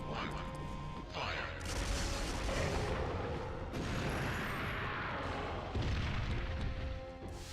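A cannon weapon fires and explodes in Resident Evil 3: heavy booming blasts and a sustained roaring rumble, with a sharp surge near the start, another midway and a fresh burst late, ending in mechanical rattling.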